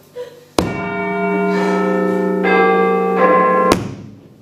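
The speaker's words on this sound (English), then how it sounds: "The front door bell." A loud, resonant front doorbell chime in a high school stage production rings out with sustained harmonic tones that swell and hold for about three seconds before cutting off, standing alone.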